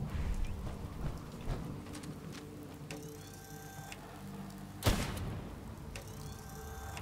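Steady rain in Fallout 4 patters on surfaces with a sudden loud crack partway through, a continuous wet hiss with no talking.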